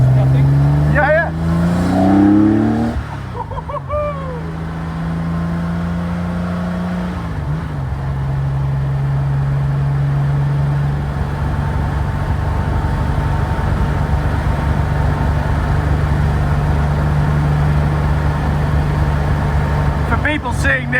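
A road-legal Porsche 917 Le Mans race car drives on a public road, its loud engine droning steadily from inside the cabin. Gear changes alter the pitch early on, and people talk over it.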